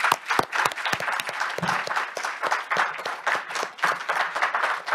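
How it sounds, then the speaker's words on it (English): Seminar audience applause fills the room with dense, steady clapping from many hands, close and loud throughout. "let's give him another round of applause"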